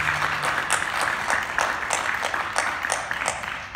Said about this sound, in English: We should give them one more round of applause.